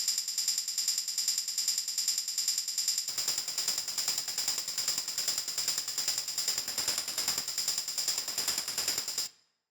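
Hard techno shaker played without its erosion plugin and LFO, a thin, bright, steady ticking pattern in a rapid even rhythm that fills out into a fuller, noisier texture partway through, continuing alone before cutting off.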